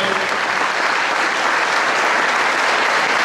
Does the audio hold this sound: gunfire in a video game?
no